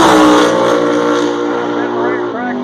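A Pontiac race car engine at full throttle at the Haltech World Cup 2018 racetrack, a loud sustained roar that shifts pitch near the end, heard under an excited announcer's commentary.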